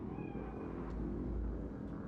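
A cat in the video game Cyberpunk 2077 gives a faint, drawn-out meow near the start, over a low background hum, with a couple of soft clicks afterward.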